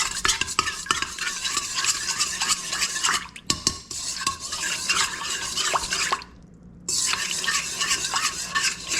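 A spoon stirs honey into a baking mixture in a bowl, giving a continuous close scraping and clinking with rhythmic strokes, broken by a short pause partway through and again near the end.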